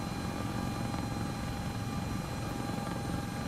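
Helicopter in flight heard from inside the cabin, a loud steady rotor and turbine drone with constant rhythmic thumping, no pauses.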